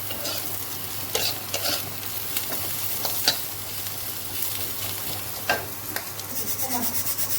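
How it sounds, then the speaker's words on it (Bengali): Potatoes frying in a pan, stirred with a utensil: steady sizzle throughout with irregular scraping and knocking strokes, close and alone without talk. "পুরো আলু ভাজাটা মোটামুটি হয়ে গেছে।"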